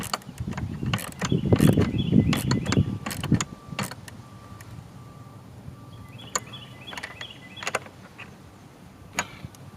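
A ratchet wrench turns a bolt with a 10 mm socket to fix the bracket of a Ridgidhorse 16-inch LED light bar, a rapid burst of clicks and rattling that thins into sparse ticks and clunks.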